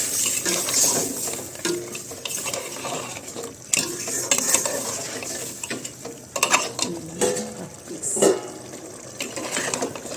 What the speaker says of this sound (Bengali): এখন মাছ মাংসটা সময় নিয়ে কষানোর পালা